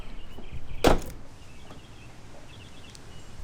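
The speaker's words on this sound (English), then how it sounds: "let's open the door" A single sharp click and thunk of a Toyota FJ car door latch opening, followed by a quiet hum and faint background noise.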